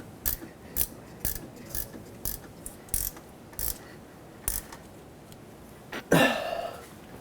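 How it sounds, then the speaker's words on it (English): A ratchet tightening a 15mm bolt under a 2008-2017 Buick Enclave during alternator replacement, about a dozen short, crisp clicking bursts in an uneven rhythm, ending with a longer scraping rattle. "let's tighten up this 15mm bolt."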